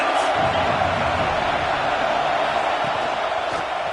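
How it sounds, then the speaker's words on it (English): Stadium crowd roar in the College Football 26 video game, a dense, constant wash of cheering and noise that holds steady at full volume without letting up. "This crowd trying to make life miserable for this offense."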